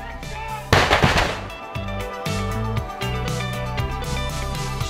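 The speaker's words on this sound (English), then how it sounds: "I am going to be involved in the explosion." A fiery explosion set off as a stunt on a television drama set bursts out loudly and close, a broadband blast that rumbles and crackles for about half a second before dying into a steady roar with other sounds.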